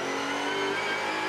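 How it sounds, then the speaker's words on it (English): Onboard sound of a Mercedes racing car accelerating hard during a Superstars Series race at the Hungaroring, a loud, dense engine roar with rising pitch filling the whole clip. "needing to maximise the power of that Mercedes to get past Tom Biaggi and Larini, who are in front of him"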